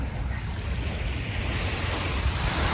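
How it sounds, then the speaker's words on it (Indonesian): Steady surf washing onto a small beach in Yokohama, Japan, a continuous broadband rush of waves mixed with wind buffeting the microphone, moderately loud and unbroken. "itu review mengenai laut di Jepang ya, bukan laut sih, pantai ya, pantai kecil di Jepang, di Yokohama tepatnya"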